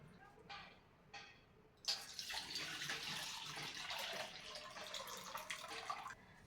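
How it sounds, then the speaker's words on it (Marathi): Homemade butter rubbed and rinsed by hand in a bowl of water at home, with two brief splashes followed by several seconds of continuous sloshing and running water, fairly close. "मी ही लोणी तीन वेळा धुवून घेणार आहे"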